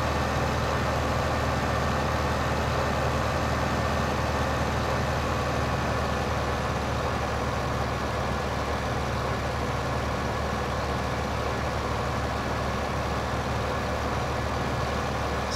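Tractor engine running steadily in Farming Simulator, a constant low, dense drone that stays loud and even throughout with no talking.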